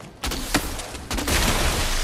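Flare gun shots in a video game, two sharp bursts about a second apart, the second followed by a sustained rushing fizz.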